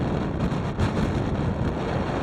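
Strong wind buffets the microphone on a mountain summit in Maine's Bigelow Range, in a steady, loud rumble with gusty surges, no voices present.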